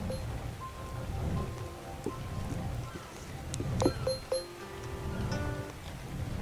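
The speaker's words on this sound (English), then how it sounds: "We are now at Viking Bay, and of course it's raining. It's always raining here." Steady rain falls in the Ark video game at a coastal Viking-style base, a constant patter with a few brief chimes and clicks, while a voice talks over it.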